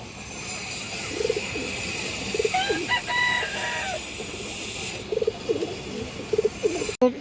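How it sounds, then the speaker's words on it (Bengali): A female Budapest high flyer pigeon coos in soft repeated low phrases among other birds, with a rooster crowing in the background and a steady hiss of ambient noise around them. "হাই ফ্লেয়ার বুদাপেস্ট মাদি কবুতর"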